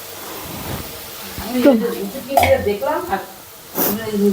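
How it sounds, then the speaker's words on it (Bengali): Vegetables steaming with a splash of hot water hiss and sizzle in a pan, with stirring scrapes. Someone talks over the cooking throughout. "একটু গরম পানি দিয়ে ভাপ দিয়ে নিচ্ছি"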